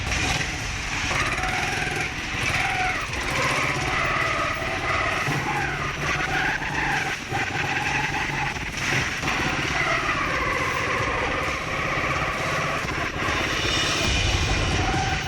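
A steady engine drone runs throughout at close range, loud and continuous, with a slight rise near the end; no speech.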